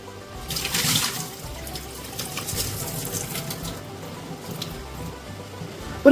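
Water drains off as food is strained, a continuous rushing pour that swells early and then settles into a steady trickle and splash at moderate loudness.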